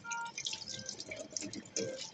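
A bathroom tap sputters back to life after a sudden water outage, giving faint, uneven trickles and drips in short irregular bursts, quiet and close with no steady stream.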